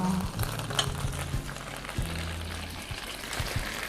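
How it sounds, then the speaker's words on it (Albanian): Oil crackling and spattering in a pan while black rice with mushrooms fries, faint scattered pops and sizzle over low background clatter. "Po stërpik shumë vaj"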